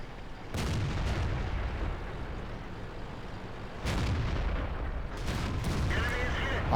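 In the World of Tanks game, a KV-1S tank takes a cannon shell hit: dull booming impacts and rumbling blasts sound in bursts against a loud, steady battle background, with no voices.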